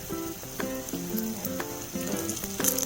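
Garlic and curry leaves fry in oil with a crackling sizzle, punctuated by sharp pops and clinks, all fairly quiet and without speech.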